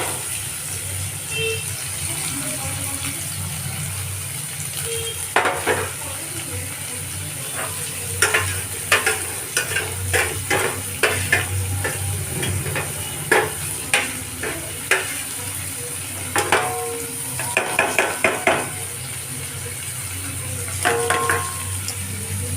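Ingredients for chowmein fry in hot oil with a steady sizzling hiss, broken by clusters of stirring clicks and scrapes against the pan, close and continuous throughout.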